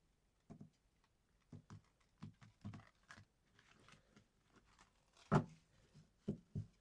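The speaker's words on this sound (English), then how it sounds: "we will begin with shuffling the cards" A deck of playing cards being shuffled during a tarot-style reading, heard as a series of soft, close riffles and taps in irregular bursts, fairly quiet and without speech.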